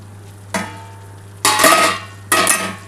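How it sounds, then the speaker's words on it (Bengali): Banana stem (thor) frying in a pan over low gas, stirred in three separate bursts of scraping and sizzle, each a second or so long, with quiet simmering hum between them. "আমি কিন্তু একটুখানি নাড়াচাড়া আগে প্রথমে করে নিই।"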